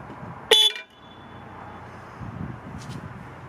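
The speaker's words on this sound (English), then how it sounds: "So I had to go down to Autobahn and bought a just a generic 24 volt horn." A generic 24 volt horn fitted to a Hitachi excavator gives one short, sharp, loud honk during a test, followed by quiet background rumble.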